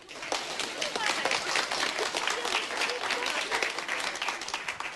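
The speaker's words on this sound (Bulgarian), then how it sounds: "Аплодисменти!" A studio audience at a Bulgarian TV show applauds loudly and steadily, dense clapping filling the whole stretch with no break, close and bright.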